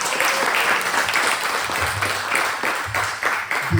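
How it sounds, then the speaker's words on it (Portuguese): A church congregation bursts into loud, sustained applause, dense rapid clapping that stays full and near for the whole stretch with no break. "agora você pode aplaudir o Senhor"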